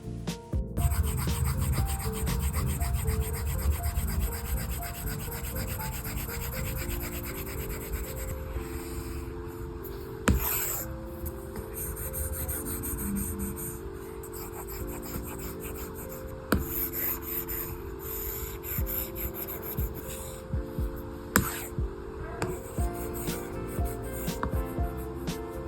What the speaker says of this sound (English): get ready for some real-time drawing sounds